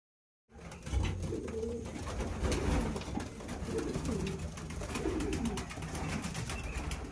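Pigeons in a family racing-pigeon loft coo steadily and close by, soft repeated calls layered over continuous bird chatter and rustling, with no talk.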